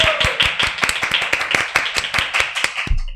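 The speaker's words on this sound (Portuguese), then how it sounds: "Uma salva de palmas, minha gente!" Brisk rhythmic clapping in a podcast studio, a steady run of sharp, close hand claps from a small group that stops abruptly at the end.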